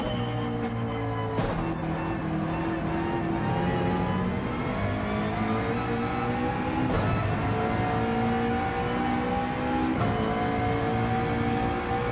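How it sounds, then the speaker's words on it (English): McLaren race car engine in Gran Turismo 7 droning steadily, with rising and falling revs and gear shifts across the clip, loud and continuous with no talk. "I can hear my McLaren still"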